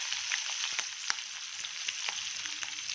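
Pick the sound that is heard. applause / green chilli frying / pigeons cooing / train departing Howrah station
green chilli frying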